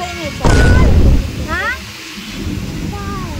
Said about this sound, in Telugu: ఇంకా వర్షం అయితే చాలా గట్టిగా పడుతుందన్నమాట